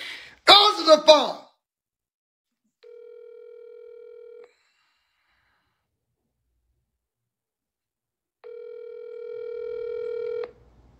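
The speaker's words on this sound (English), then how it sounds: "Answer the phone!" A loud shout, then a telephone ringing on a call, with two steady electronic ring tones separated by a long silence, the second ring longer and slightly louder.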